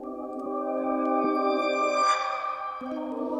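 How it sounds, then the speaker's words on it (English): Sustained keyboard chords stacking up, with new notes entering every second or so to build a layered, ringing harmony. "it's just one big chord that's just building on top of each other right now"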